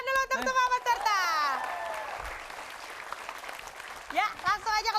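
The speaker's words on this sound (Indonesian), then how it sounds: "Kita kasih tepuk tangan dulu untuk semua peserta." Audience applause for contest participants at a prize-giving event, a steady wash of clapping from the crowd, with a voice and other voices talking loudly over it at the start and end.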